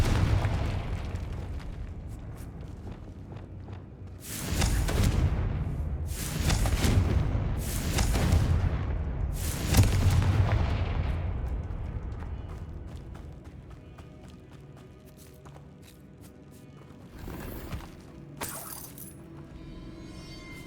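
Confringo spell explosions in the video game Hogwarts Legacy go off in a series of loud, booming blasts with crackling debris, four in close succession and two more later, over a steady game ambience.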